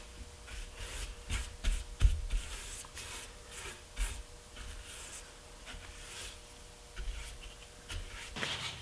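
A brush applies Benjamin Moore Fresh Start acrylic primer to a wooden frame, giving quiet, soft, irregular swishing and rubbing strokes close by, with no talking.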